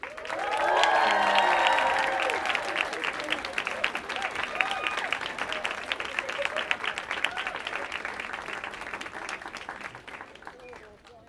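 Studio audience at a talk show applauding as guests come out, a dense sustained wash of clapping that swells early and slowly tapers off, with a host's voice and some cheers faintly under it.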